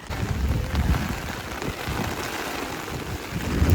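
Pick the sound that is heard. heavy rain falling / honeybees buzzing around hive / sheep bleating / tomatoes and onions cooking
heavy rain falling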